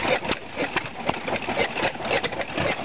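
A small antique hit-and-miss stationary engine, belted to a drill, chugs nearby at an antique show in an uneven rhythm of muffled thumps and mechanical clatter, with no voices.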